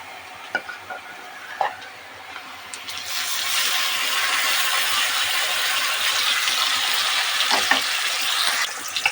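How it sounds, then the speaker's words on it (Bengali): Onions fried until reddish-brown hiss steadily in the pan, then a loud, broad sizzle surges as gravy goes in for a Bengali tengra fish kosha, continuing with stirring scrapes and crackle, close and without talk. "পেঁয়াজটা লাল হয়ে গিয়েছে এর মধ্যে আমি গ্রেভিটা দিয়ে দেবো"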